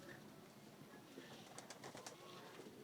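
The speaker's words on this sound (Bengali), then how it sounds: "এই যে কবুতরটা ডাকতেছে" A Jalali pigeon coos softly in a few low, rounded calls, faint against a quiet background hum.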